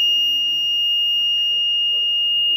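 A digital parking sensor buzzer sounds one continuous high-pitched electronic tone, loud and steady, held unbroken throughout with faint background noise beneath it.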